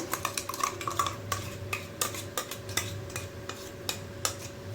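A spoon scrapes and clinks against a tiffin box as a dry fruit, curd and paneer mixture for paneer bhapa is scooped in, with repeated light taps and scrapes over a low steady background hum.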